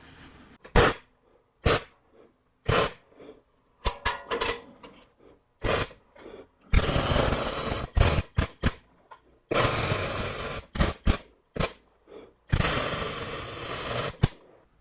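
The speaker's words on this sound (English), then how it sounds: "then I'll clamp it securely for tack welding" Tack welding metal pieces for a welding cart, clamped in place: short, sharp crackling bursts starting and stopping, with several longer buzzing stretches of arc between the quick tacks, close and fairly loud.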